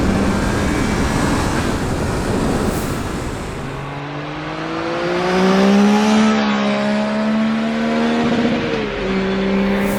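A Triumph Trident 660 motorcycle being ridden, with wind roar at first and then a loud close engine note that climbs through the gears and eases back as the bike gets up to speed.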